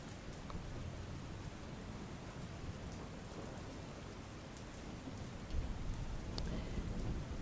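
Heavy monsoon rain in Gujarat, a steady dense roar of downpour on surfaces that holds loud and unbroken throughout, with a slightly stronger gust of splashing near the end.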